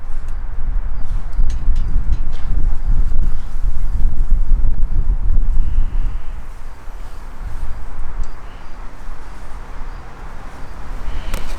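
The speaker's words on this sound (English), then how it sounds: "the wind is very strong today" Strong wind buffets an outdoor microphone, a constant loud rumbling roar that swells and eases slightly without pause and with no voice over it.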